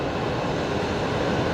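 A Qantas airliner taking off at night at Brisbane Airport, heard as a steady, distant, broadband engine roar that holds level and continuous throughout with no speech.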